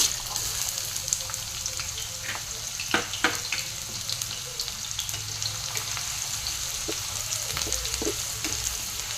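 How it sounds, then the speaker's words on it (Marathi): Chopped onion and cumin seeds sauté in a hot pan for dhaba-style paneer bhurji, giving a steady close sizzle with scattered crackles and a few sharper stirring clicks, with no talking. "कांदा छान असा परतवून घ्यायचा आहे"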